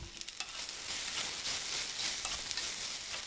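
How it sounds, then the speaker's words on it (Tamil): Meal maker (soya chunk) masala sautéing in a pan, a steady broad hiss of frying with light stirring scrapes throughout, close and fairly soft, no voices. "ரெடி பண்ணி வச்சுருக்க மீல் மேக்கர் மசாலாவையும் இதோடு சேர்த்து நல்லா வதக்கணும்"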